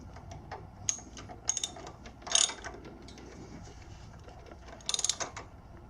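A ratchet clicking in short bursts while snugging the front sprocket bolt on a Zero Empulse TT electric motorcycle, several sharp ratcheting spurts close by with pauses between.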